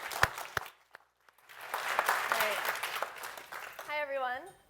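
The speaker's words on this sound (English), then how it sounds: "Warm round of applause for Bench Pals." Audience applause at an entrepreneurs challenge final pitch-off, greeting the Bench Pals team: a broad wash of clapping from the crowd rises after a short lull and carries on steadily, with voices speaking over it.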